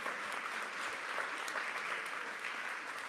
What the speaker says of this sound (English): Can we give another round of applause for our young scholars?